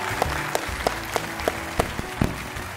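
On a Spanish talk-show set, an audience claps for a singer as steady, evenly spaced claps land about three times a second over soft background music, sounding like a crowd clapping along in time.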